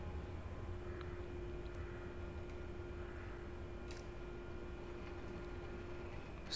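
An airliner in Microsoft Flight Simulator 2020 taxis after landing, a faint, steady engine drone with a constant low hum and no speech.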